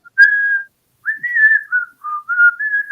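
A person whistles a simple tune alone, clear and close, in several sustained phrases separated by short breaths, the pitch wavering slightly.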